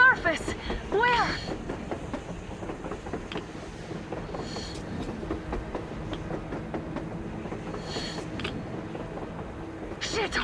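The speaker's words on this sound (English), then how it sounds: "A train! A damn train on the surface!" A train rolling across the open surface in the post-apocalyptic shooter Metro Exodus, a steady rumbling clatter with rail noise and wind under excited talk, with some brief high metallic squeals.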